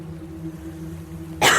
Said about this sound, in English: She coughed.